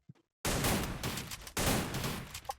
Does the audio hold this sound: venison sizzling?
no